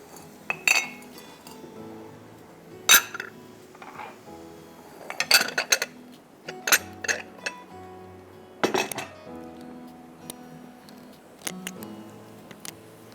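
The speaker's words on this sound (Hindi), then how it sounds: "आधा कप घी में 1 किलो गाजर को हम थोड़ा सा भून लेंगे" Grated carrots, one kilo, stirred in half a cup of ghee in a pan, with repeated metal clinks and scrapes of a utensil against the pan in irregular bursts over a low background hiss; no talking.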